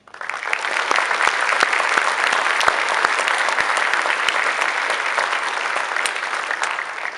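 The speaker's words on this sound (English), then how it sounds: "so give Hope Stein a clap." Steady, full applause fills a school spring concert hall after a symphonic band student is honored, with a few sharp nearby claps ringing out of the dense clapping throughout.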